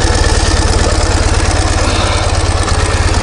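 A vehicle engine idles just after starting in cold conditions, a loud, close, steady low-pitched throb with rapid regular pulses running unbroken throughout, with no talking over it.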